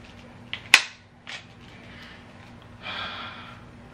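A broken Mossberg 500A shotgun gives one sharp metallic clack as it is racked, followed by a few softer clicks and handling rattles, close and otherwise quiet.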